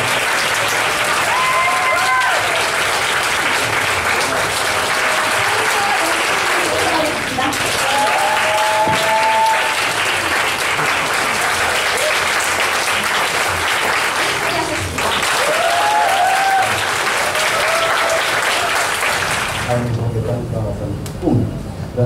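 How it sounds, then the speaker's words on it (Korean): Loud, steady audience applause at a youth summer camp showcase of contemporary and Korean traditional dance, with whoops and cheers mixed in, continuing for about twenty seconds before cutting off. "큰 박수 부탁드립니다."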